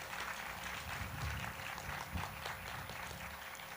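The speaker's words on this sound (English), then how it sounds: "let's give them a round of applause also" Applause for the school faculty fills a middle school moving-up ceremony. The clapping is faint and distant, a steady wash of many hands that carries on without talk.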